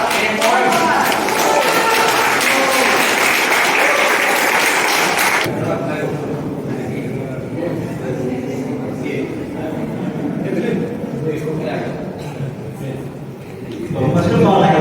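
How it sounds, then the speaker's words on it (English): An audience at a club meeting claps for a song performance, dense applause filling the first few seconds before a speaker's voice takes over in a reverberant hall. "So can we have a round of applause for Mohan?"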